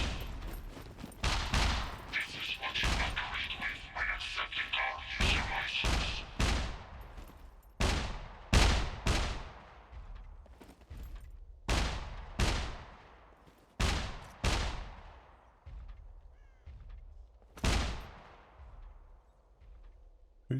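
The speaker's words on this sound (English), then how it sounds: "Who's he shooting at?" Repeated gunshots ring out in the video game Scum, sharp loud cracks arriving singly and in quick clusters across the span, some close and punchy, others trailing off, with no talk over them.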